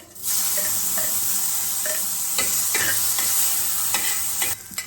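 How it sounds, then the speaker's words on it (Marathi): Tomatoes tipped into a pan of cashews roasting in hot oil: a sudden loud hiss that settles into a steady close sizzle, with several stirring scrapes, then it drops off abruptly. "आता भारी भाजून आता आपण टमाटो टाकू"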